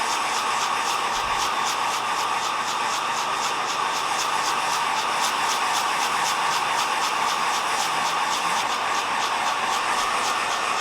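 A hot air popcorn popper roasting coffee beans blows a steady, loud, unbroken whoosh of air, with no cracks standing out and no voices.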